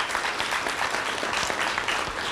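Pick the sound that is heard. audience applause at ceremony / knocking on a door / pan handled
audience applause at ceremony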